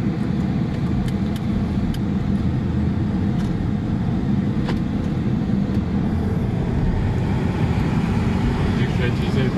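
The Ferrari-built engine of a Maserati Quattroporte sedan, driven in sport mode with paddle shifting, gives a loud, steady low drone from inside the cabin, with road rumble mixed in and no clear shift breaks.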